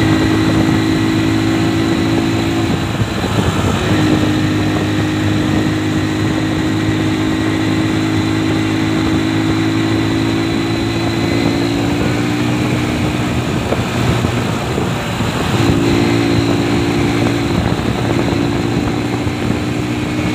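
A motorbike rides along toward a forest near a village, its engine humming steadily and close throughout with slight shifts in pitch as it moves.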